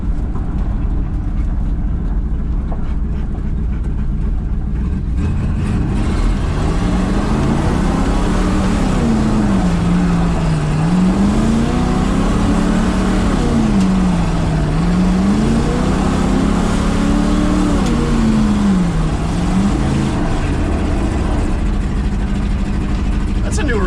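An abandoned 1970 GMC truck drives after twenty years of sitting, its loud engine droning steadily with a pitch that rises and falls in repeated swells as it accelerates and shifts, the rumble constant throughout.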